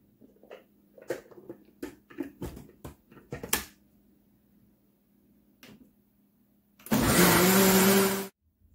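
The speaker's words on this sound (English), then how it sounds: "Add the thyme to the blender." After scattered clunks and knocks of items being set down, a blender blending Jamaican jerk sauce with thyme roars loudly for about a second and a half, then stops.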